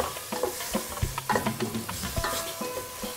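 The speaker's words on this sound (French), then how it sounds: "Et on remue notre sauce." A sauce is stirred in a cooking pan. A utensil scrapes and knocks against the pan in an uneven series of close, distinct strokes over a soft, low sizzle.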